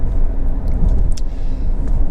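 Honda CR-V 1.6 i-DTEC SR five-door cruising on the road, heard as a continuous low engine and tyre rumble from inside the car with a few faint clicks.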